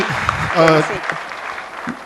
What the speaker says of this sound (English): a big round of applause for the entire gathering here